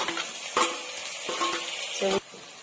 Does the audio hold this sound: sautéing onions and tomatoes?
yes